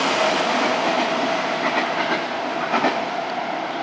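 A Tobu 50000 series express train runs through a station at close range, producing a loud, continuous rumble with rhythmic clickety-clack from the wheels over the rail joints. No one talks.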